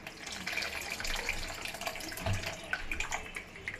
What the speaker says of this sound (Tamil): உப்பு போட்டுட்டு அந்த புளி கரைச்சி வச்சுருக்கேன் அதை அப்படியே ஊற்றிடலாம்